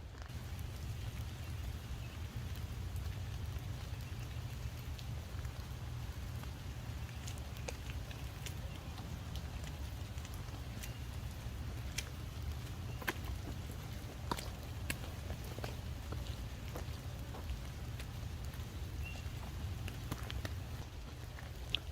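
Steady rain falls on a wild campsite, a constant dense patter with scattered sharper drips, continuous and moderately close with no voices.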